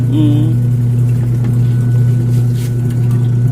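A Sanyo washing machine motor runs with a steady, loud droning hum and a constant tonal whine, close by and unchanging, with a brief voice at the start.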